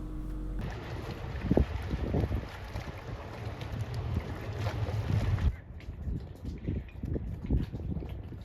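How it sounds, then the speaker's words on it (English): Boats pulling out of the Aqua Yacht marina on the Tennessee River, a steady low engine rumble mixed with wind buffeting the microphone and water wash, continuous and fairly close with no talking. "let's go ahead and get into seeing the boats leave the marina"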